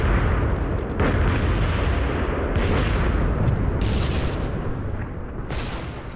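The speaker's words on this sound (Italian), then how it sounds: "Per una settimana si spara ininterrottamente notte e giorno da 1500 cannoni." Massed World War I artillery bombardment from hundreds of cannons, a continuous dense rumble of overlapping booms with sharper blasts roughly every second or two, loud and unbroken throughout.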